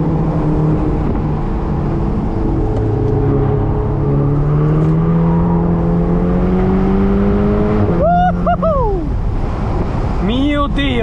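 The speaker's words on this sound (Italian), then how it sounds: "La e-tron che accelerata gli ha tirato totalmente da elettrica proprio." An Audi e-tron electric car accelerating hard on a road in Dubai, a rising whine sweeping upward over steady wind and road rush, with sharper rising tones near the end.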